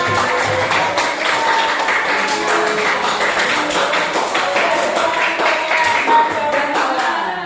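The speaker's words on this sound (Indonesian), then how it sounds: "Kasih tepuk tangan." A group of participants in an Indonesian teacher-training class claps together for the group about to present, a steady, dense patter of hands that carries on for several seconds at close range.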